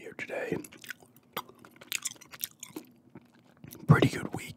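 Gum is chewed close to the microphone in soft, wet, sticky clicks and smacks, spaced irregularly between quiet stretches, with a louder burst near the end.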